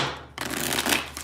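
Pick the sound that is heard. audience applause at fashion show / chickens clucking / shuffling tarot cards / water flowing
shuffling tarot cards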